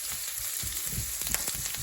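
Onion fries in a pan for egg fried rice, making a brief, steady, close sizzle with light crackling and no voices.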